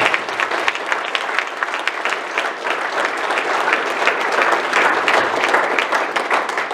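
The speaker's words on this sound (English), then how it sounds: "Abby deserves a round of applause for everything she's done." Members at an ASHRAE chapter meeting applaud their outgoing president with a loud, continuous burst of clapping whose individual claps stand out sharply in a dense, steady rhythm.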